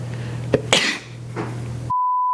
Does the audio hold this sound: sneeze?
yes